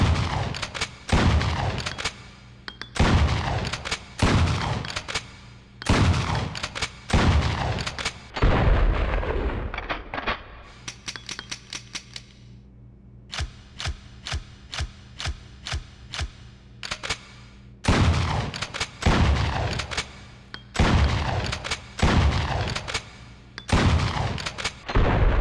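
Remington 870 shotgun blasts boom in Resident Evil Outbreak File 2, loud, close and spaced in uneven bursts, with a quieter stretch of faster clattering shots midway and no talking.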